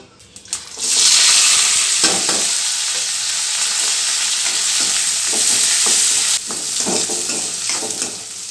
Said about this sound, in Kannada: ಸಾಸಿವೆ ಹಾಕ್ತಾಯಿದ್ದೀನಿ ನೋಡಿ ಸಾಸಿವೆ ಎಲ್ಲ ಚಟ್ಪಟ ಅಂತ ಇದೆ